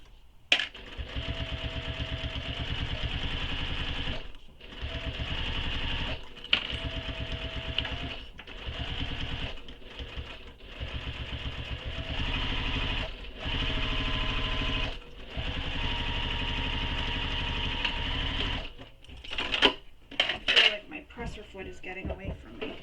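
A sewing machine stitches the top curve of a fabric tote bag in repeated whirring runs of a few seconds each, separated by short pauses, close and loud, with brief talking at times.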